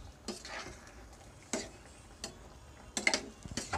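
A spoon stirs pork humba in a pot, a few scattered scraping and clinking strokes against the metal, quiet and close, with soft gaps between them.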